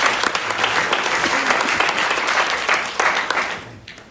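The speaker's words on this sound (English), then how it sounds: "Applaud now." Audience applause at a community candidates night held for county judicial races, a dense steady clatter of many hands that carries loud for most of the stretch before thinning out toward the end.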